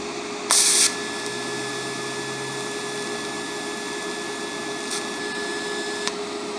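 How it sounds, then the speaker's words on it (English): A TIG welder strikes a tack on AR500 steel in a fabrication shop: a short, sharp hissing burst over a steady background hum, followed by a faint second blip near the end. "so why not TIG weld it? Let's see if I can get it to tack in the corner right here."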